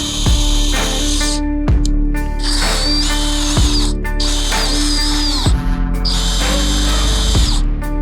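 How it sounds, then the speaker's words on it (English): A power drill whines loudly in four long bursts, pausing briefly between each as it bores holes for a light on a Harley-Davidson Road Glide, with clicks and mechanical rattle throughout. "Drill these out."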